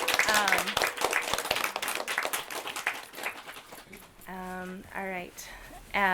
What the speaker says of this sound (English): Maybe we can give a quick round of applause for the panelists before we start.